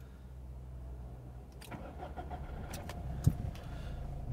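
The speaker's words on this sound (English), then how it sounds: "We start the car up." A 2011 Subaru Impreza 2.0 TD diesel hatchback cranks briefly and fires up, then settles into a close, rumbling idle with a sharp clunk near the end.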